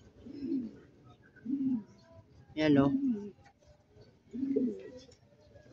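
Pigeons coo in repeated low, rolling phrases at close range, spaced about a second apart, with a person speaking briefly in the middle.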